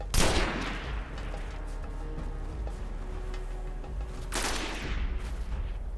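A semi-automatic gun fires in the Destiny video game: two sharp, loud shots several seconds apart, each with a short echoing tail, over steady game ambience.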